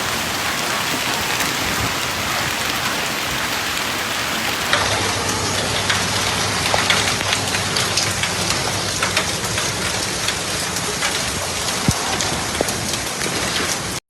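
Hailstorm in northern Italy, a dense, continuous hiss of hail and rain striking surfaces, loud and close, with sharp impact ticks scattered through and a low rumble joining partway.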